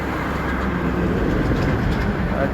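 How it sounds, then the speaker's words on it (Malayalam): A train rolls past near the Arikkady underpass beside the NH66 highway works in Kasaragod, Kerala, a dense, continuous rumble with faint clatter that holds steady throughout, with no voices over it. "അടിപൊളി കണ്ട ട്രെയിൻ പോകുന്നുണ്ട"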